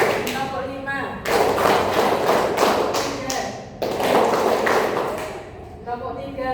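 A classroom group claps a counted rhythm pattern in a simulation exercise, with loud dense rounds of clapping broken by short pauses and a voice speaking between them.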